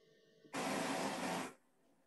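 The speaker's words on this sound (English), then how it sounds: "we should get a buzz, a white or pink noise pulse from the top section of our air speaker" A brief burst of broadband white or pink noise from the top section of a Legacy Audio loudspeaker, switching on abruptly and holding steady for about a second before cutting off cleanly over a quiet hum.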